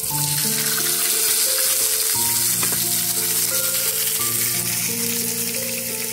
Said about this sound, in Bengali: এবার এর মধ্যে আমি পেঁয়াজ কুচিটা দিয়ে দিচ্ছি।